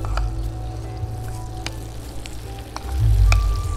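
Tofu fries in hot oil with a steady, loud crackling sizzle and scattered sharp pops, a louder rush of bubbling swelling near the end as more goes in.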